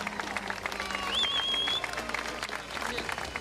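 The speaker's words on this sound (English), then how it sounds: "Let's give them a round of applause," A crowd applauds at the finals of the 2025 UCI BMX Racing World Championships, a steady mid-level patter of clapping with a loud voice talking over it and a brief whistle-like tone.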